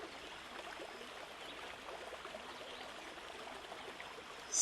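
A calm river flows with a steady, faint, continuous rushing and trickling. It is heard alone from the bank, with no voices.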